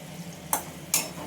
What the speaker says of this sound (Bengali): এবার মশলাটাকে আমি কষিয়ে নেব, গ্যাসের ফ্লেমটা বাড়িয়ে দিয়ে মশলাটা কষিয়ে নেব ভালো করে